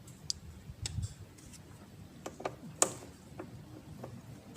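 A screwdriver works loose the clamp on the turbo inlet hose of a Pajero Sport, giving sparse, sharp metallic clicks and ticks at irregular intervals over a low rumbling background.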